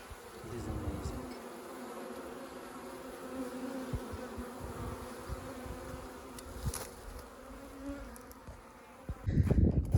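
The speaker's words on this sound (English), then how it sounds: "Bees here inside." A swarm of bees inside an old house makes a close, steady buzzing drone with occasional louder passes and a brief rustle near the end.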